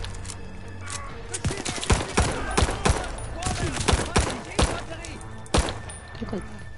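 Heavy gunfire in the Call of Duty Vanguard video game strikes the player's position as a rapid scatter of sharp shots and thuds over rumbling combat, with people shouting underneath.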